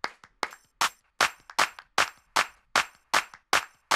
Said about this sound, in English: when I bring in my claps, I'm adding variation to it